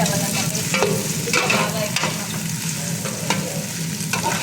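Onions frying in a pan, a loud close sizzle broken by several scraping stirs of a spoon against the metal, no voices.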